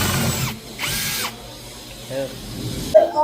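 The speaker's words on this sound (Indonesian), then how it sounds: "Kemudian kita sekrup menggunakan sekrup yang sesuai dengan ketebalan." A power drill drives 7 cm screws into a wooden lower kitchen cabinet frame, with two short close whirring bursts followed by softer mechanical clicks and a brief squeak at the end.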